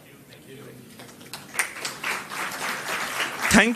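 An audience at the Epitome 2025 award ceremony applauds the Ojasya Award recipients, with clapping swelling from scattered claps into a fuller round while a voice speaks over it.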